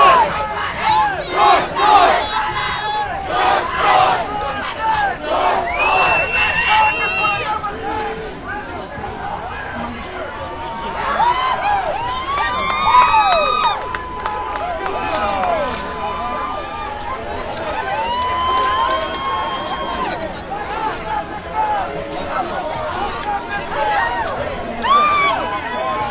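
A crowd gathered outside after a guilty murder verdict in a police killing trial erupts in loud cheering, shouting and chanting, with whoops and overlapping voices sustained throughout.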